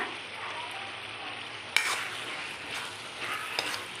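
Tomatoes sizzle and fry in a pan for egg rice, stirred with a utensil that scrapes and clatters now and then against the metal, steady close-up frying with no voices.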